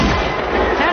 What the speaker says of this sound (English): He shot a gun for halftime?